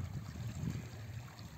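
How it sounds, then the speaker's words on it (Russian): Storm waves churning on a small lake at sunset, a dense, steady low wash of water that is fairly faint and continuous, with no voices. "Волны бушуют."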